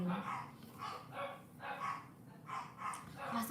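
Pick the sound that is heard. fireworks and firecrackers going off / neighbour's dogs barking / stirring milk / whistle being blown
neighbour's dogs barking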